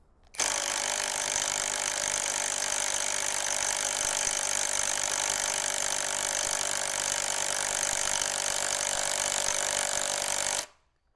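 An Ingco cordless impact wrench hammers against a stubborn nut in one loud, unbroken burst of rapid rattling impacts lasting about ten seconds, starting and cutting off abruptly.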